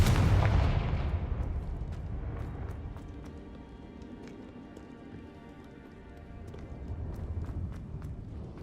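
A Confringo fire spell blast in Hogwarts Legacy opens with a loud booming burst that rolls off into a fading rumble, followed by scattered faint clicks and taps.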